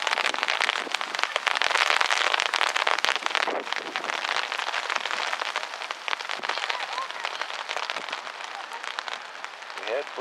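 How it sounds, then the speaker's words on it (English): Hail falls during a storm at an outdoor youth soccer match, a dense, steady crackle of small impacts that patters continuously and loudly throughout. "We're now being hit by hail."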